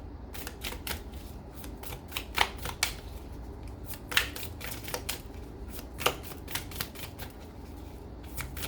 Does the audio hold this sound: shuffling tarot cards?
yes